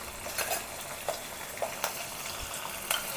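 Chilli pickle with salt being stirred in a pan, a continuous sizzle broken by a few crisp scraping strokes of the spoon at irregular intervals, close and alone.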